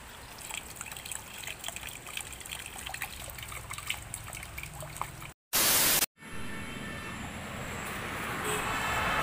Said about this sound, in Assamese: বৰ্তমান বৰষুণ দি আছে বাহিৰত